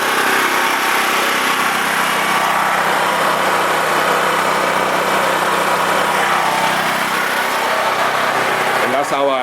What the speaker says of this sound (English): I basically have it running off my Harbor Freight generator, 5500 watt.